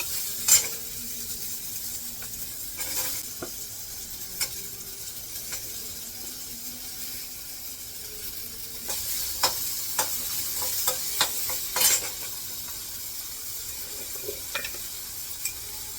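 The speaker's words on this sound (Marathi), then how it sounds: "ते काढून घेते आणि कांदा परतायला टाकते" Onion sautéing in a pan without oil makes a soft, continuous sizzle. Scattered clinks and scrapes of a spoon stirring against the pan break through it, and no one speaks.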